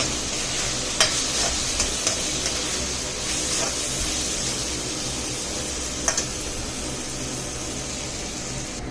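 Ivy gourd stir-fries in a pan with a constant loud sizzle and a few scattered clinks of a stirring spoon, with no voices.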